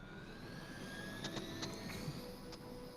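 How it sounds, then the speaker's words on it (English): Helicopter engine whine in Marvel's Midnight Suns, a steady droning hum with faint tonal sweeps and a few light clicks over it. "We gotta stop this heli from going off"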